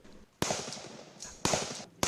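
Live-fire shots from T91 rifles at a military drill, with soldiers advancing 75 meters and firing from prone, kneeling and standing positions; three sharp, loud reports ring out about a second apart, each trailing a brief echo.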